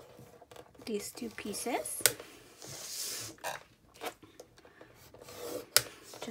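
Paper being scored at half-inch marks on a scoring board gives short, dry scraping and rasping strokes in uneven bursts, close by and mixed with a person talking.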